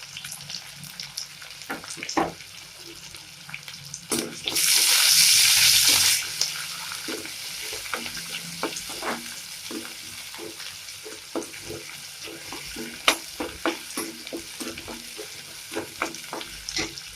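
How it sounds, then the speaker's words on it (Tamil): Small onions with curry leaves sauté in a hot pan for a lentil-ball kuzhambu, with a steady close sizzle, scraping stirs and light clinks, plus one loud rushing burst partway through. "வெங்காயம் நல்லா வதங்கிடுச்சு."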